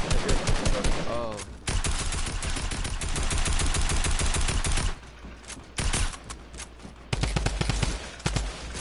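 Fortnite gunfire: long loud stretches of rapid automatic fire, pausing briefly, then resuming in bursts, with a voice briefly heard among the shots.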